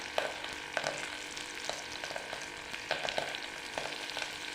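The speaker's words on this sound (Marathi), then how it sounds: "तेल तापल्यानंतर जिरं मोहरी कढीपत्ता" Cumin, mustard seeds and curry leaves sizzle in hot oil in a pot, a close, steady frying hiss punctuated by soft crackles and stirring scrapes, with no voices.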